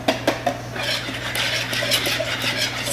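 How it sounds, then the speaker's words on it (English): A whisk beats dessert batter in a bowl, giving rapid, close metallic clinks and scraping against the sides, with a few sharper taps at the start before a steady churning rhythm. "I'm going to take my whisk and I'm going to actually start kind of making it"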